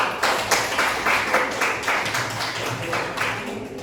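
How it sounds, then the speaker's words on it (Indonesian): A small group of students in a classroom claps together in a regular rhythm, a string of evenly spaced bursts about twice a second, moderately near and not very loud. "kita berikan tepuk tangan dulu untuk kita semua"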